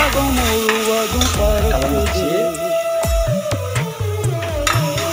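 Mutton biryani masala sautéing in a pan gives a dense, loud frying sizzle alongside busy stirring scrapes and metallic knocks, with a tonal ring running underneath.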